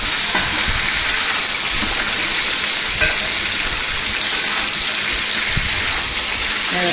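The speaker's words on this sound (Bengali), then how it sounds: "চাল কুমড়োটা কিন্তু ভাজা ভাজা হয়ে গেছে বন্ধুরা" Pieces of ash gourd fry in hot oil in a pan, giving a loud, steady sizzle that crackles without a break for the whole stretch.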